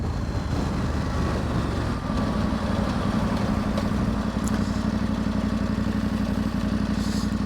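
A KTM 790 Adventure motorcycle with a 790 motor and full exhaust runs steadily, a loud continuous engine drone close to the microphone with a slight rise partway through.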